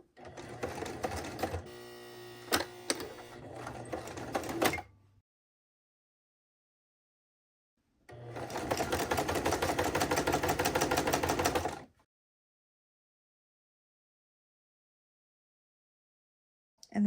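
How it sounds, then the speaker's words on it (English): Home sewing machine stitching a romper in two bursts of steady, rapid mechanical whirring, about five and four seconds long, with a quiet pause between them and close, clear motor and needle clatter. "And then we're just gonna sew."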